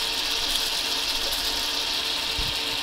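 Repaired gear oil pump on a change gear setup running steadily, an even mechanical whir with a fine ratcheting texture and a soft thump near the end, close and constant.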